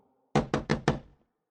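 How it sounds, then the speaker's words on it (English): Four firm, evenly spaced knocks on a wooden door, close and loud, each with a short hollow thud, followed by silence. "Suddenly, someone knocked on the door."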